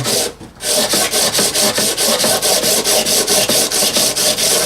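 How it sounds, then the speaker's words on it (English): A 1980s Aria 12-string acoustic guitar fretboard is sanded by hand to level it, producing steady rhythmic back-and-forth rasping strokes, close and loud, after a brief pause at the start. "So just basically sand away"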